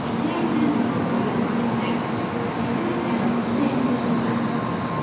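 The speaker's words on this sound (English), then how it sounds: "Here's a train right behind me." Train rolling past at night in Osaka's Dotonbori area, a steady loud rumble with a sustained whine throughout.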